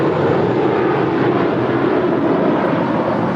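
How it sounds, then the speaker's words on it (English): A five-year-old American Airlines Airbus A321 departs, its jet engines giving a loud, steady broadband roar close by that holds evenly throughout, with no voices. "American Airlines 2543 departing to Dallas Fort Worth. It's a 5-year-old Airbus A321."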